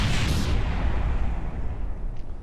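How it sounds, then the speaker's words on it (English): A Kerbal space game explosion roars as a dense, loud low-frequency blast with crackling bursts at the start that rumbles on and slowly fades. "But you're gonna see some nice explosions."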